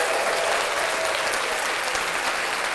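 A live podcast audience breaks into continuous applause, a dense, even wash of clapping with faint cheering, close and loud for the whole stretch.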